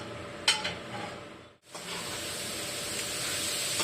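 Grated carrot sautéing and being stirred in a pan for carrot halwa, a soft steady sizzle and hiss with an early scrape of the spoon, a brief drop near the middle, then continuous close frying.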